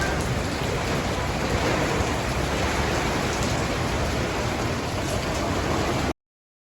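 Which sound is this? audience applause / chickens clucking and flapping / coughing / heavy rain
heavy rain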